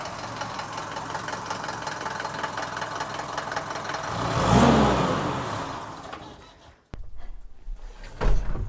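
A Mercedes 123 car driven fast on out-of-round tyres, its engine roaring steadily and swelling to a loud peak before dropping away, then briefly picking up again near the end.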